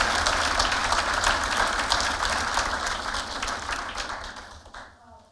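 A lecture hall audience applauds continuously to welcome lecturer Naomi Oreskes, dense steady clapping from a large crowd that gradually thins and fades out.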